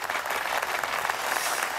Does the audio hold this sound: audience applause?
yes